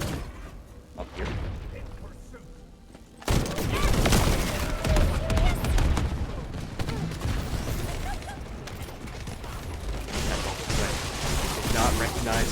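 Ability explosions in the shooter game The First Descendant during a boss fight: rapid, dense bursts of booms and thuds that kick in suddenly and keep going, loud and continuous, with a voice talking underneath.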